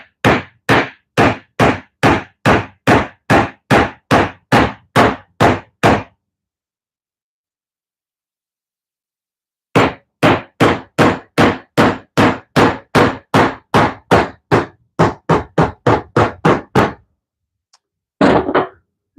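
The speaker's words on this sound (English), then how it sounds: "My left-handed hammering is not being very effective." Someone hammers while salvaging oak hardwood flooring, striking sharp, close blows in two long, evenly spaced runs separated by a pause, then a few final knocks.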